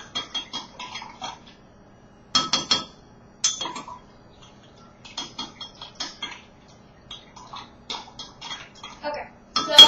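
A spoon stirs apple cider vinegar into vegan buttermilk in a small bowl or cup, giving bursts of light clinking and scraping against the container, separated by short pauses, close and fairly quiet.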